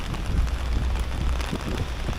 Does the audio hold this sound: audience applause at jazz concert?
no